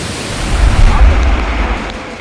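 Monsoon flood waters and heavy rain rumble in a loud, low roar that swells and fades over a couple of seconds.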